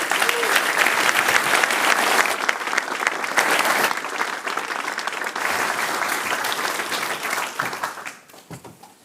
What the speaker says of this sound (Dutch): Mag ik nu een ontzettend warm applaus voor de spreker van de allereerste chartslezing, Arend-Jan Boekenstein.